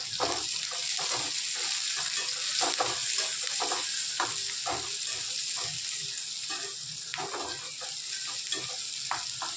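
Chopped onion hits a pan of garlic already browned in hot oil, giving a moderate sizzle broken by repeated clinks and scrapes of a stirring spoon, with no talking.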